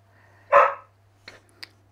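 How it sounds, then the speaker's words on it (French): A dog barks once sharply at a cat lying on the floor indoors, followed by two softer short yips, close and clear with no talking. "Il y a le chat qui est allongé par terre et le chien qui est devant en train de lui aboyer dessus."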